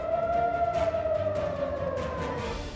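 An air raid siren wails in Israel during a missile attack, a loud sustained tone that slowly falls in pitch, with faint background noise beneath it.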